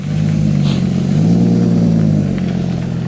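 A car engine revs as it is driven close by, a loud steady drone that climbs in pitch, holds, then eases back down toward the end, with no voices heard.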